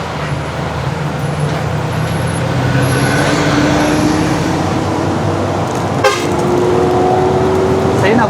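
Vehicle horns honk in busy roadway traffic, heard as a few tonal toots over a steady road rumble, with voices talking nearby.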